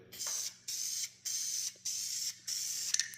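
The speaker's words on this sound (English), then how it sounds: "Okay, now it'll spray the way I want it to." Five steady hissing sprays from a nozzle while working on a 1977 Ford F-250, each lasting about half a second, separated by short pauses, close and fairly quiet.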